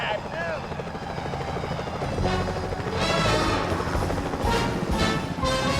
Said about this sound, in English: Those security choppers are bad